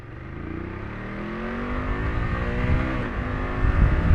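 A 2020 BMW F750 GS motorcycle engine, heard close, revs steadily and climbs through smooth gear changes, with its pitch rising and dropping at each shift.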